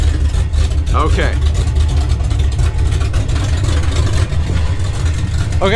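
A 1962 Chevy big block V8 with open headers idles loudly and close by, a steady low rumble throughout, while a person talks over it with occasional brief speech sounds.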